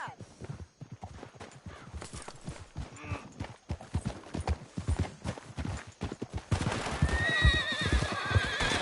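Horses neigh and their hooves pound at a gallop during a Red Dead Redemption 2 canyon chase, with shouted dialogue throughout; the clatter and whinnies swell louder and denser toward the end.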